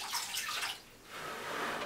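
Water splashing and trickling as a small towel wets and gently washes a baby's head during a bath, two soft close washes of running, sloshing water separated by a brief lull.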